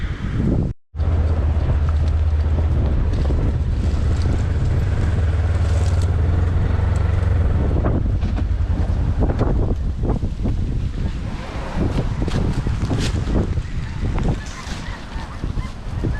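Loud gusts of wind buffet the microphone in a constant low rumble, with honking geese calling intermittently over the roar.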